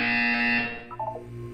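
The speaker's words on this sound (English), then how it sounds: "You will hear a buzzer." A buzzer in the video game Portal 2 sounds as a loud, sustained electronic tone that cuts off after about half a second, followed by a few short falling beeps and a low hum.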